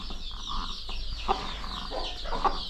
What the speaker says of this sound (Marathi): कोंबड्या अंडीवर बसवलेल्या आहेत